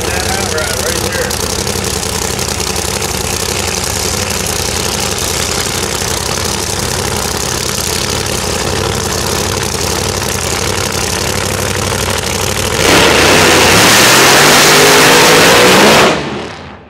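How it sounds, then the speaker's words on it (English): A legend race car's engine idles with a steady low rumble, then revs up loudly near the end as a hot rod revs at a drag strip starting line. "That's a legend bullet in that hot rod right there."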